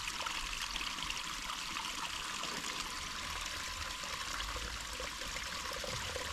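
Water trickling steadily in a stream along a trail during a trek in Aurora, Philippines, a continuous soft hiss with no voices heard.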